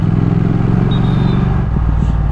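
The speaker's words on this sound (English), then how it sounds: "Been a long time since I rode a Thruxton, but that exhaust note and the pop." A Triumph Thruxton R motorcycle's exhaust gives a steady, deep, throbbing rumble at close range, with a few short blips near the end.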